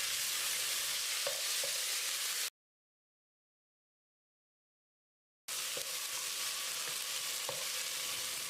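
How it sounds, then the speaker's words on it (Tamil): Chopped onions and two medium tomatoes sizzle and fry in a pan for a cauliflower biryani, with a steady hiss and a few spoon-stirring scrapes, broken by a stretch of silence. "இதை போட்டு மசிகிற அளவுக்கு வதக்கிடலாம்."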